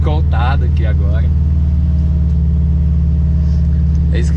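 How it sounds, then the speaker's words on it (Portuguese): A 270 hp car with a loud exhaust creeping along at about 30 km/h, a steady deep droning rumble heard close up, with someone talking over its start. "É isso que dá ter carro com escapamento barulhento"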